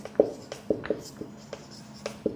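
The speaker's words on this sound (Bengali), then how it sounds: "তো আমি সেটাই লিখব" Pen strokes scratching on paper while a quadratic equation is worked out in a tenth-grade maths lesson: a series of short, close scratches and taps at an irregular writing rhythm, with no talking.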